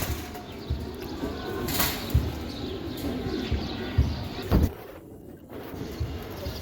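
Giribaz flying pigeons cooing in a loft, soft intermittent coos and small chirps at close range amid light background noise and a few knocks.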